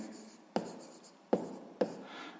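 Pen writing a math answer on paper, close soft scratching strokes broken by a few sharp taps as the pen lifts and lands, with no talking.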